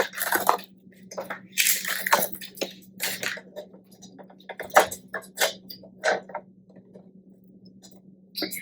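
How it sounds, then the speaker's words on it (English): Picture frames are turned over and their backing and contents pulled out, making close, irregular clicks, scrapes and rattling clatters with short quiet gaps between bursts, with no talking. "you want to take your 3 frames and turn them over, and you want to take everything out from inside of the frame."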